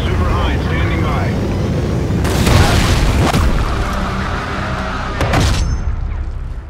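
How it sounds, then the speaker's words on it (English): Heavy booming blasts of a Trinity rocket strike in the shooter game Call of Duty: Ghosts, two broad loud impacts rolling out over constant battle rumble, with game radio voices heard. "Friendly Trinity rocket inbound."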